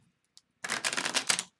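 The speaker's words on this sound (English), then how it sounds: "Shuffle them one more time." A deck of tarot cards gets a quick riffle shuffle: a few faint taps, then a dense, close flutter of cards lasting under a second before stopping.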